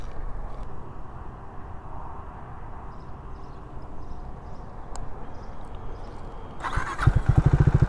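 A Triumph Speed 400 motorcycle sitting quietly before its electric starter cranks and the single-cylinder engine catches near the end, settling into a close, loud, pulsing idle.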